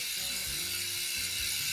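A Halo Chaos single-speed dirt jumper rear wheel hub with 135 mm spacing freewheels, giving a loud, continuous, fast ratcheting buzz up close with slight surges as the wheel spins.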